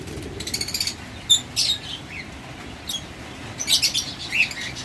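Pet pair of close-ringed red-winged lovebirds or budgerigars giving scattered short, thin chirps over a steady low background hum, moderately near with brief bursts and pauses.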